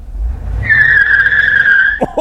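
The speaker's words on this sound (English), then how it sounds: "Let's try a backy burnout." A Dodge Durango does a reverse burnout, its tires letting out a loud, sustained squeal for about a second and a half over engine rumble, followed by a brief scraping, skidding chirp.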